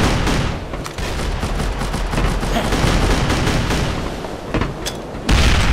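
Dense rapid gunfire mixed with booming bomb blasts from the shooter game District 187, a loud continuous barrage of cracks and rumbling detonations with no pauses.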